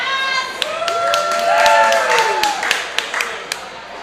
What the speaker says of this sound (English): Round of applause for Alex, everyone.